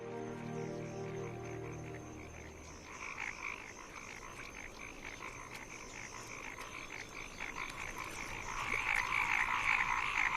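Male paddy frogs call at dusk in a wetland meadow, a dense steady chorus of croaks and trills with many overlapping voices that grows louder toward the end.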